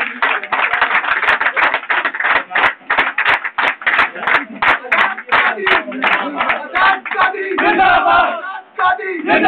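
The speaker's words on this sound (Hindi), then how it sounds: "भरपूर तालियों में" A crowd at a telecom labour union election rally claps loudly and steadily, with shouted cheers and voices rising over the dense applause throughout.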